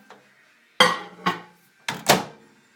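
A plate of marble cheddar is set down inside a microwave oven and the door is shut, giving four sharp clunks and knocks close by with short pauses between them. No one speaks.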